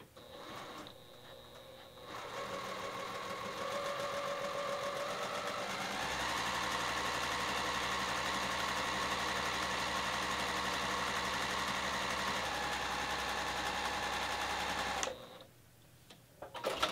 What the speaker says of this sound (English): we're gonna do is sew a straight line 1/4 inch away from the line